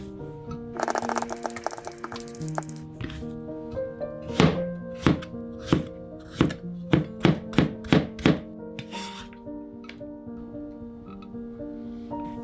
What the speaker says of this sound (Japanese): 人参はピーラーか包丁で千切り。